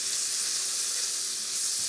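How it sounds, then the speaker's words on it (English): Bacon fries in a hot pan with a continuous close, bright sizzle and hiss, steady throughout with no voices. "Look at this, frying away nicely."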